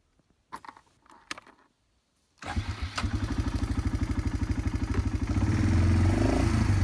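A vehicle engine cranks and catches outdoors on rural lakeside land, settling into a loud, steady idle that grows fuller, after a few keys jangling and clicks beforehand.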